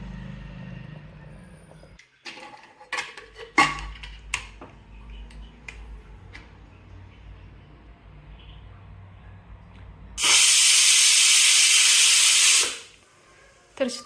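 A pressure cooker cooking Jagannath temple-style khichdi lets out its third whistle, a loud, harsh, sustained hiss lasting over two seconds, after scattered faint kitchen clicks and taps.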